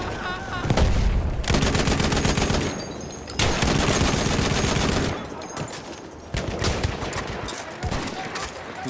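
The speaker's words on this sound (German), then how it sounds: "Feindliches Maschinengewehr!" Enemy machine gun fire in the Battlefield 1 Amiens Conquest map, with loud rapid bursts of automatic gunfire separated by short pauses, close and dominant, with in-game chatter in the mix.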